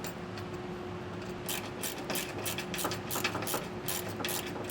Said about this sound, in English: I'm going to put 17mm socket on and get this pushed through the rest of the way